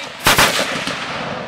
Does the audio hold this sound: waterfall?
no